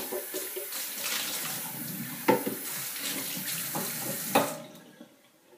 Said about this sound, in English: I'll rinse this out.